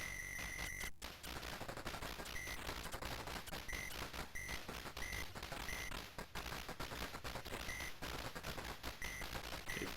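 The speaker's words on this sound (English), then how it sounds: "you just kind of barely fit in between the shots the big bomber there lobs at you" Retro arcade shooter 1942, where a big bomber lobs shots at the player's plane: dense, continuous rattling gunfire and explosions, with repeated electronic beeps, steady and loud throughout, with no talk.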